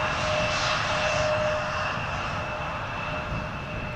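An Embraer 175 jet roars steadily at Schiphol Airport, a loud, continuous broadband engine rush with a faint high whine throughout, heard without any voices.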